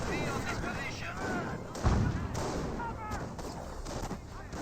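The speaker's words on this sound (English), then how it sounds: "It does throw an incendiary mortar there, but then incendiary mortar does outright miss the slit trench." Mortar fire in the Company of Heroes game: a single heavy thud of an incendiary round near the middle, with lighter battle noise scattered around it, under a commentator's steady talk.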